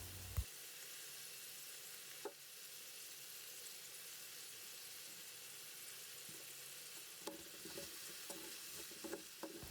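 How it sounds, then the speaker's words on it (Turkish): Leeks, washed and salted, frying in a pan while being stirred: a steady soft sizzle throughout, with a few scrapes and clicks of the utensil against the pan, no voices. "Ve karıştıralım."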